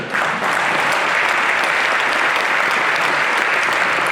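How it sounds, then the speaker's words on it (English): Audience applause at a racing hall of fame induction ceremony, a loud, dense, steady round of clapping with no speech over it. "So I think she needs a round of applause there."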